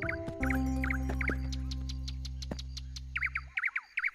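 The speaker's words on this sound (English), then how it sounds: "What lovely bird song." Cartoon birds chirp and sing in short, bright repeated phrases over a steady low hum, the tweets sharpening and growing more distinct after the hum cuts out near the end.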